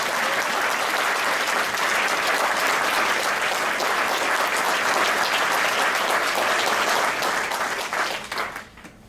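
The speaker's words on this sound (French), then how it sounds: "j'aimerais ça que vous applaudissiez pour moi" An audience applauds loudly and continuously at a live event, a dense wash of many hands clapping that holds steady before tapering off near the end.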